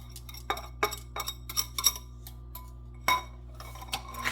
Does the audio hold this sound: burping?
no